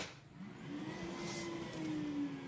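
A steady motorized whir hums close by, rising slightly in pitch and holding, as a Dreame robot mop and vacuum base auto-empties debris.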